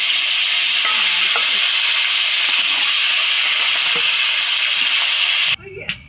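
Fish frying in hot oil in a kadai gives a steady, loud, dense sizzle that runs unbroken. It breaks off near the end into a brief clatter.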